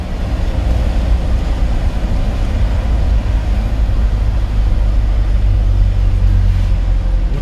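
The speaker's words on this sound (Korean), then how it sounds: "트럭 들어와요, 천천히." A truck pulling in slowly on a road during a driving test, heard from inside a car as a steady, loud, low engine and road rumble throughout.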